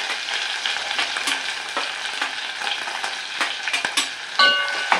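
Onion sautéing in a pan with mustard seeds, cumin, garlic and green chilli, a steady close sizzle broken by scraping stir strokes and a few sharper clicks of a spatula against the pan.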